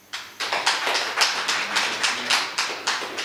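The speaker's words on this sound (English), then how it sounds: "Clapping for him." Audience at a self-empowerment talk claps in a steady rhythmic burst of about a dozen even beats, moderately loud and close, with no talk over it.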